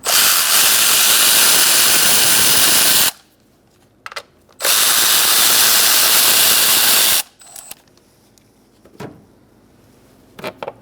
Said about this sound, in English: Using a 10mm socket, we're going to take out these two nuts.